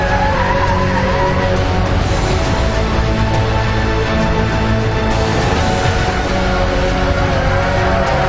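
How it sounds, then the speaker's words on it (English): A 5-ton racing truck tears past at about 100 mph, a loud, continuous roaring engine with rough tire noise filling the whole stretch. "it's a 5-ton vehicle that's doing 100 miles an hour"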